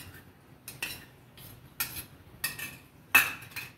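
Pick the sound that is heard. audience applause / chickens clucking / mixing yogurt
mixing yogurt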